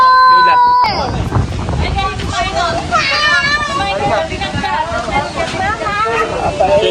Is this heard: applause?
no